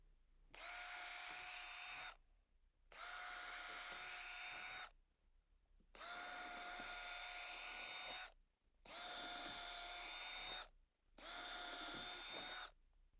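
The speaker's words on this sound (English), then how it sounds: "we're gonna drill a couple of holes and see what happens" A power drill whirs in five separate high-pitched bursts, each lasting a couple of seconds, drilling holes through a Bougerv Yuma 200-watt CIGS thin-film solar panel, with short quiet pauses between them.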